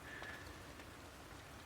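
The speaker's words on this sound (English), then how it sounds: "As soon as you get the camera out, it starts raining again." Fine rain falls outdoors at a carp fishing spot, a soft steady hiss of tiny drops pattering on surfaces, quiet and even throughout with no voices.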